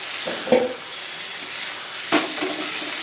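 Michuti stir-fried with chopped garlic in a pan gives a steady close sizzle, with two brief louder scrapes of stirring.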